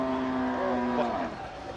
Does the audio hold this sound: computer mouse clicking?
no